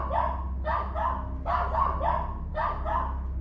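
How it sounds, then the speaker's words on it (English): An agitated dog barks in a steady series of sharp, clipped barks at mid distance, several of them in quick pairs, over a low background hum. "the third grew agitated and began barking at something odd"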